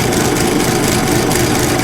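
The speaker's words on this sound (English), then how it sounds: "Going from hex to round always rattles a lathe pretty hard, so we're doing that on the little China lathe here." A small Chinese lathe turns a hex nut down to round, a loud continuous rumbling rattle with rapid choppy vibration from the interrupted cut, steady throughout and with no talk.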